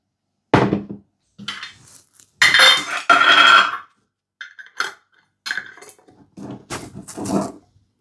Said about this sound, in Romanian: Strângem foarte tare filetul.